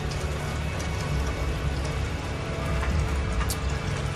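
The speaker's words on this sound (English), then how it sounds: "Oh, man, so it's raining." Steady rain pours down at a golf course, a dense continuous hiss with a low rumble underneath, constant and fairly loud throughout with no voices.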